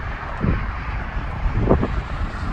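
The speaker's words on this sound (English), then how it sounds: "Sorry, we got some wind." Gusty wind buffets the microphone outdoors on a rural Texas hill road, a steady low rumble with a couple of heavier thumping gusts, loud and close with no voices.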